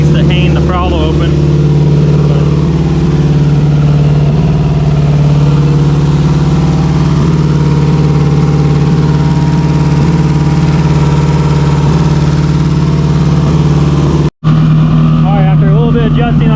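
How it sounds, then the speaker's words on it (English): Subaru STI with a stock OEM EJ257 longblock engine idling, a loud, close, steady low rumble that holds even throughout and drops out briefly near the end, with speech over it. "she is idling nice and purdy now"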